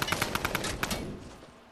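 A drum gun in the Fortnite video game fires rapid bursts of close, loud automatic gunfire, then a single short burst before the shots ring out and fade.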